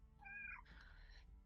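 A cat gives a clear two-part meow, a rising cry followed by a longer, brighter wail, close by over a soft room hum with no talk.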